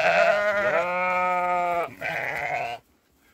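A Dorper sheep in the Westerwald bleats twice in close succession, loud and near, a long wavering cry followed by a shorter one, then quiet.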